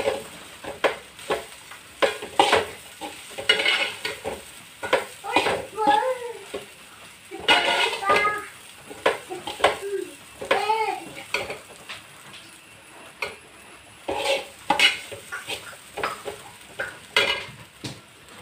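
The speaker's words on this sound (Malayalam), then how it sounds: "ഇനി നമുക്കിത് നന്നായി മിക്സ് ചെയ്ത് കൊടുക്കാനുണ്ട്" Rice flour upma being stirred in a pan, with repeated scraping and clinking strokes of a spoon against metal, close and fairly loud, interleaved with a person talking.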